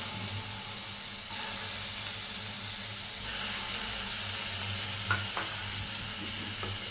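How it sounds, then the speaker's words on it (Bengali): Chapa dried fish, pre-washed, frying in a pan with steady close sizzling and hiss, a few brief stirring scrapes near the end, no voices. "এবার আমি চাপা শুটকিগুলোকে একটু ভেজে নিব।"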